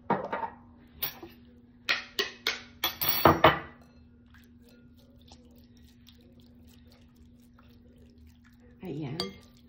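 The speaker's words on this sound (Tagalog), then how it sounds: "I-drain ko lang yung tubig." Water drains from nata de coco in a series of short splashes and pours close by, then a pause with a steady hum and a final brief gurgle.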